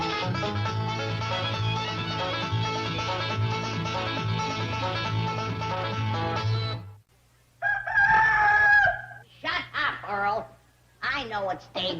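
A rooster crows at daybreak, one loud, drawn-out crow rising clearly after a stretch of music, then people talk.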